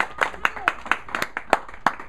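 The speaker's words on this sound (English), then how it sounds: "Can we get a round of applause?" A studio audience at a live radio show claps in a quick, uneven burst of individual hand claps lasting about two seconds, close and moderately loud.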